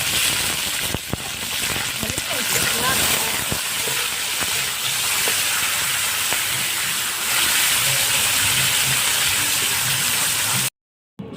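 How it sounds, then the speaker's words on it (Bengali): Chickpeas drop into hot oil and fry for a vegetarian green papaya dish, producing a loud, continuous sizzling hiss with scattered pops and clicks, no voices, ending in a brief silence. "তেল গরম হয়ে গেছে, এবার আমি দিয়ে দিচ্ছি ছোলাটা।"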